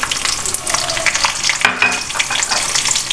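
Almonds and pistachios fry lightly in a pan over low flame for a sweet vermicelli milk dessert, a bright crackling sizzle with quick irregular stirring scrapes close by, with no voices.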